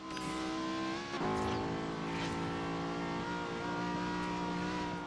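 A race car engine in Forza Horizon revs hard toward redline during a street race, a steady loud harmonic drone climbing and holding, with a brief shift or dip near the second mark.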